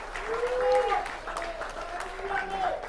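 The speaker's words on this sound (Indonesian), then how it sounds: "Tepuk tangan untuk Bung Ega." A rally crowd at a political speech claps in a loose, moderate burst, heard at a distance beneath a speaker's amplified voice, which stays prominent over it.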